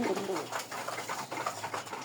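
A pair of Bombay pigeons coos in soft, repeated low calls, close by, continuing steadily for a couple of seconds with a faint background hiss.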